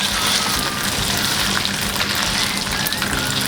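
Cooked shrimp and squid being drained, giving a steady wash of liquid splashing and trickling with a faint sizzle, close and continuous with no talking.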